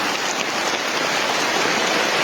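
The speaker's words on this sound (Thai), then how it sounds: "ก็ฝนตกลงมาอีกแล้ว" Rain pouring down steadily during flood water pumping, a dense continuous hiss close by with no voices.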